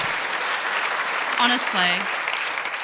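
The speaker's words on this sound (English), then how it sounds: "Keep that applause going" Audience applause at a debate on stem cells, a steady wash of clapping throughout while a voice speaks briefly over it.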